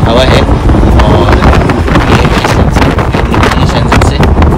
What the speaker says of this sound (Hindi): हवा चलती है, यहाँ पे हवा है।